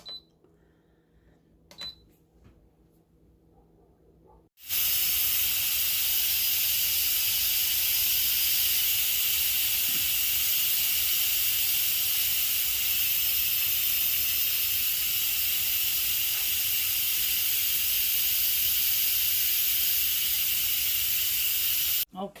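Steam hisses steadily out of a cooking pot of chicken pot pie filling on high heat, a loud continuous rush that starts abruptly after a few seconds of quiet and holds for about twenty seconds.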